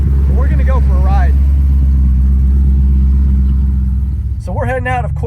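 A manual 2010 Corvette Grand Sport C6, modded, pulls away on a cold-ish start with a steady low engine rumble throughout, loud and close from inside the car, while people talk briefly at the start and again near the end.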